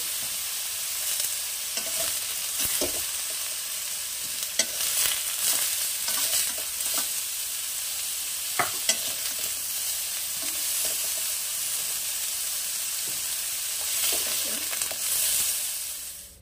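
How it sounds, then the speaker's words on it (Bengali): Food is lightly fried in a pan for a Bengali non-veg ghonto. A steady sizzle runs throughout, broken by repeated scraping stir clicks, with no voices. "এটা একটু হালকা ভাজবো"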